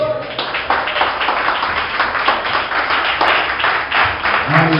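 A church congregation claps together in a loud, steady wash of applause close by, with faint voices mixed under the clapping.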